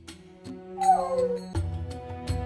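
A hound whimpers in a romance visual-novel game, giving a thin, rising whine over a steady musical backdrop with soft low thumps.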